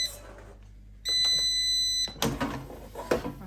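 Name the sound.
air fryer beeping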